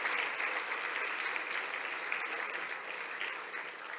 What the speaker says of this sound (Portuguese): Dê uma salva de palmas ao Senhor Jesus.